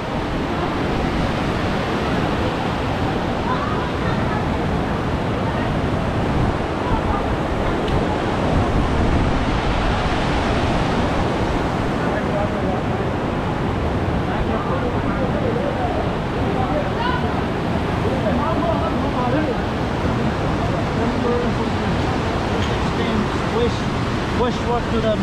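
River water flows beneath a bridge at Niagara Falls as a steady, broadband rush of water and wind. It is loud and continuous throughout, with a voice talking over it.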